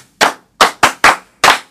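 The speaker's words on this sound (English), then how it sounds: "Clap for yourselves." Five loud, sharp claps in an irregular rhythm from children, close and dry with short silences between them.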